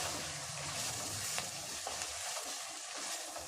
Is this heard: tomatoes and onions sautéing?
yes